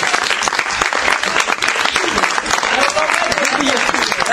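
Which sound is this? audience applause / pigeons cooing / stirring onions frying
audience applause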